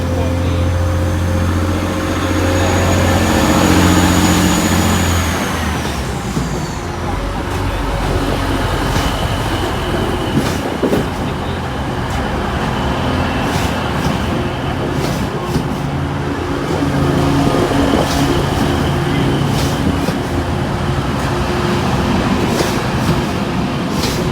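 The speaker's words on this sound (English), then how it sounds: "The 1211 Transpennine Express service in from Liverpool Lime Street to Cleethorpes, 185146 to lead." TransPennine Express unit 185146, running from Liverpool Lime Street to Cleethorpes, comes into Sheffield station with a loud diesel rumble, an early falling tone, then steady rolling noise and scattered clanks.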